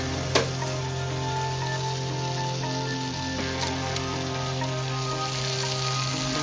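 Chicken green masala with mashed tomato sizzles steadily in a pan, a constant close frying hiss with faint scattered crackles and no talking.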